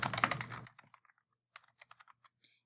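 A short burst of close typing on a computer keyboard, a quick cluster of clicks at the start followed by a sparse, irregular run of single keystrokes after a brief pause, quiet and without talk.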